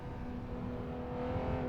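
AC GTC 60s Mod race car on a track, its engine holding a steady, smooth drone with a low harmonic hum, moderately loud and continuous.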